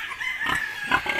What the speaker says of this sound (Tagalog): Mga lahi ho ito ng aking mga baboy.